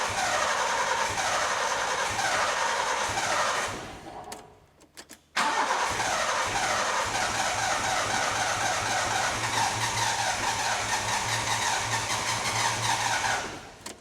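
A Japanese-import Daihatsu 4WD, parked for six years, cranks and catches, its engine firing unevenly on three of four cylinders in a loud, steady run; a brief lull near four seconds breaks it before the rough idle resumes.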